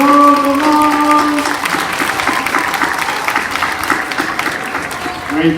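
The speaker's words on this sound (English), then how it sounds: "A big round of applause for our scientists." Schoolchildren and staff at an elementary school awards assembly clap for student scientists, loud applause following a few sustained tones at the start, then a steady patter of many hands with some voices mixed in.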